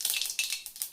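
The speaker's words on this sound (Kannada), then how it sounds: "ಎಣ್ಣೆ ಕಾಲಿದೆ, ಇದು ಸಾಸಿವೆ ಹಾಕಿದ್ದೀನಿ" Mustard seeds crackling in hot oil, a short burst of bright sizzling with quick popping spurts and no voices.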